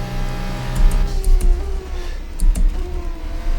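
An F2 race car engine in the game F1 24 on the Qatar circuit drones steadily, rising and falling through upshifts and throttle changes with brief low thumps, close and loud, with no one talking.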